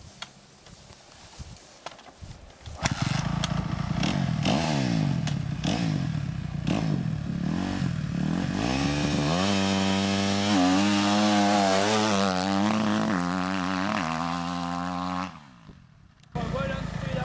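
A motocross motorcycle revs hard and pulls away from a start, its engine loud and close, climbing through rising pitch for several seconds before cutting off briefly, then picking up again.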